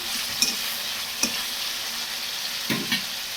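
Tomato chutney is sautéed with salt in a pan as a soft continuous sizzle runs throughout, and a few sharp spatula scrapes and knocks break in at irregular intervals. No one speaks.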